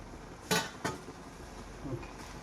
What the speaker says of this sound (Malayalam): അപ്പം നമ്മുടെ തവി കൊണ്ടൊന്ന് പതുക്കെ ഇളക്കി കൊടുക്കണം.